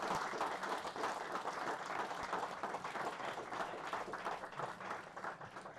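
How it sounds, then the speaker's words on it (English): Audience at a tech meetup claps steadily and warmly for several seconds, a dense even patter of many hands heard at a moderate distance with no voices over it. "a round of applause for the guys for taking them on."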